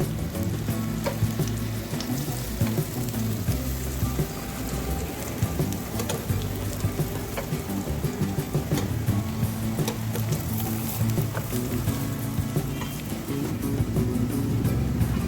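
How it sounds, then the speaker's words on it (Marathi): Aloo vadi frying in hot oil, a steady dense sizzle with crackling and occasional scraping as the pieces are flipped over, close and continuous throughout. "तर आपले हे आता फ्राय झालेलं आहे की नाही ते आपण पलटून बघू"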